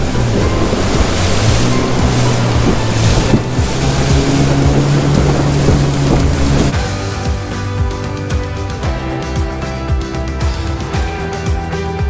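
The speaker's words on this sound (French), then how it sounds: "Ah, les vagues qu'il y a là-bas" Ocean waves crash and rush around a moving boat at sea, with a loud, steady wash of surf and wind buffeting throughout, the water noise dominating over a low motor hum.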